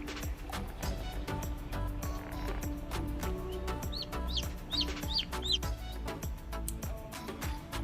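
Newly hatched chicks in a Nurture Right 360 incubator, faint repeated high peeps clustered in the middle of the clip over a background of soft tapping and low hum.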